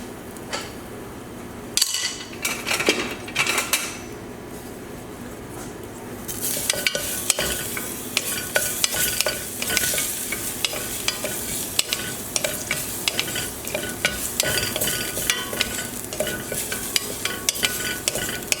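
Garlic for baked ziti frying in a pan, a dense close sizzle with constant stirring scrapes and clicks of a spoon against the pan, rising after a quieter start marked by one sharp clatter.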